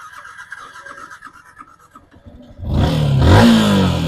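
A Yamaha R15 V2 motorcycle running low on petrol starts after a quiet stretch, then its engine catches and revs loudly for the final second and a half.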